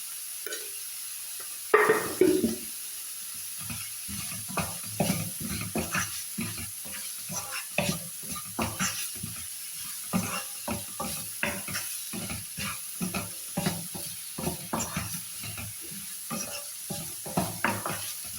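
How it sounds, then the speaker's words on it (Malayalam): Chopped onion with salt stirred and sautéed in a pan for rava upma, a steady run of scraping spoon strokes and soft sizzling close up, with no talk. "സവാള ഒന്ന് കളറ് മാറുന്ന വരെ ഇളക്കാൻ."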